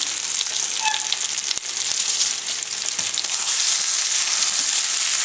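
Stuffed Cajun-style chicken breasts sizzle and fry steadily in a hot pan, a loud continuous hiss with a brief clatter partway through.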